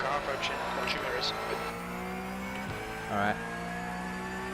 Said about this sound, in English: Car approaching. Watch your mirrors.